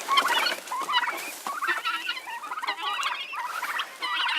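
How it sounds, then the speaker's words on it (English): Chickens on a self-sufficient homestead, let out in the morning, cluck and chatter steadily at close range, with overlapping calls filling the whole stretch. "Letting the chickens out."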